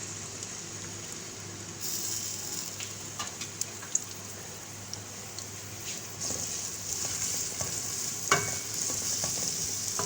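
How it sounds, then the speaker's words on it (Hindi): Chopped onions fry in hot oil in a home kitchen, giving a steady close sizzle with a few scattered pops and occasional metallic taps from a stirring utensil. "ऑयल जब हमारा गर्म हो जाएगा तो मैं इसमें ये प्याज डाल दूँगी।"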